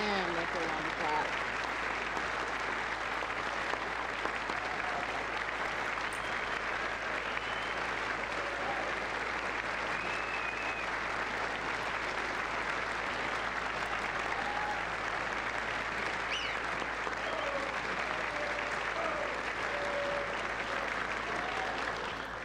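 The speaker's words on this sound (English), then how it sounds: "Man, that's a long clap." Long, sustained applause fills a chamber at the State of the Union, a broad steady wash of many hands clapping that barely changes in intensity, with a voice occasionally speaking over it.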